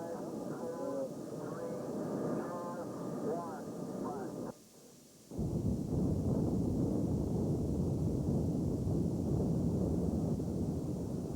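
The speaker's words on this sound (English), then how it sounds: "Finally, with spectators out of harm's way, the charges are blown." Demolition charges blown to implode the Occidental Building in Indianapolis, a sudden loud, sustained rumbling roar heard from a distance that follows a narrator's voice and a brief quiet gap.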